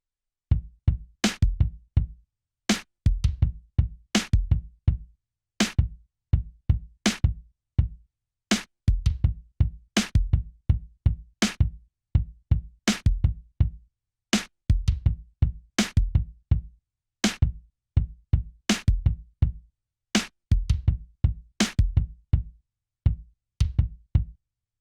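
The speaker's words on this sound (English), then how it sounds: "I'm going to show you how the hand clap sound sounds in the drum rhythm" A programmed drum rhythm with a hand clap sound in a breakdown groove for a pop track, playing as a steady, tight pattern of loud, punchy hits with sharp transients, close and alone without any voices.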